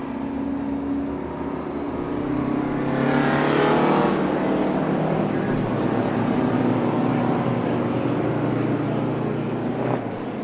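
Big rig racing trucks rumble at Stateline Speedway as they warm up, a loud continuous engine drone that swells mid-way as one passes close, with an announcer talking over it.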